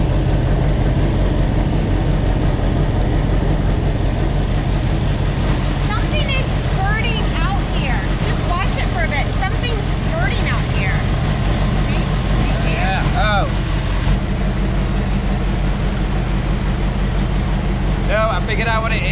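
A Dodge V8 idles steadily to warm up after an oil change, a constant low rumble up close while people talk over it.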